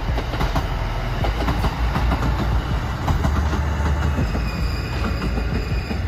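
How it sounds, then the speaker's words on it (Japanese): A train on the JR Kishin Line passes close by, its wheels rumbling and clacking over the rail joints in a dense steady roar with faint squeals, loud throughout the short stretch. "ちょうど撮影地に向かう途中に列車がやってきました。"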